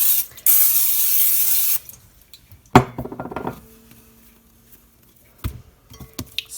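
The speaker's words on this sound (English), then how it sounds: "transfer it to another bowl and spray the bowl with cooking spray" Cooking spray hisses into a bowl in one continuous burst lasting more than a second, followed by clinks and knocks of a bowl being handled in a home kitchen during bread making.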